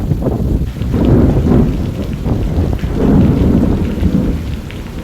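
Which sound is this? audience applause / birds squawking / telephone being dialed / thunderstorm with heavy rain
thunderstorm with heavy rain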